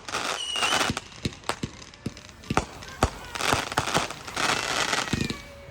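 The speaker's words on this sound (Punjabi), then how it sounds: "ਇੱਥੇ ਪਟਾਕੇ ਚਲਾ ਸਕਦੇ ਆ ਆਪਾਂ" A string of sharp firecracker bangs goes off at irregular intervals during Diwali celebrations in Surrey, Canada, some close together, with voices talking in between.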